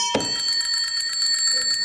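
A quiz show buzzer bell rings once, bright and sustained, with ringing overtones lingering over quiet studio room tone.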